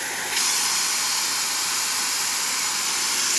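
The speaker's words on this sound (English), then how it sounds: "Beautiful, excellent pressure coming out from the steam." Steady, loud hiss of pressurized steam blasting from a Rancilio espresso machine steam wand, starting abruptly and holding constant throughout with no talking.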